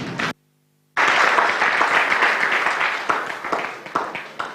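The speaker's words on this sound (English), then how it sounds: "need to give Honourable Minister another round of applause" A live audience at an ActionAid event gives a guest minister another round of applause, a dense, steady clapping that stays loud after a brief dropout near the start, then thins toward the end.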